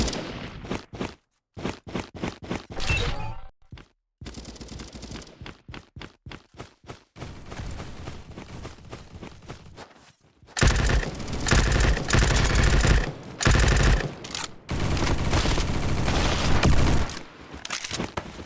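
Gunfire in a Roblox first-person shooter, rapid bursts of shots in stuttering strings, then a denser, louder stretch of continuous fire later on, mostly free of speech.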